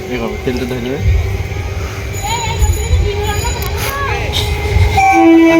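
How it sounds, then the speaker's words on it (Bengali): A train rolls past on a railway line on a scorching hot day, its wheels rumbling steadily while the horn sounds in short blasts, with people talking close by over the noise. "এই যে ট্রেন লাইন দেখতে পাচ্ছ ট্রেন যাচ্ছে"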